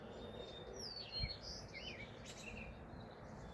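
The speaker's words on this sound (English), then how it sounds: "I could sit out here for hours just listening to the birds" Birds chirp and warble outdoors in a quiet, peaceful setting, with several thin, high calls rising and falling at a moderate distance over a soft, steady background.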